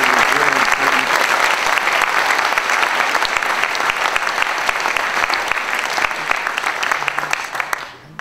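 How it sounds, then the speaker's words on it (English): An audience at an evening political talk event applauds in a long, dense round of clapping that stays strong before tapering off and stopping near the end. "Well, one more round of applause."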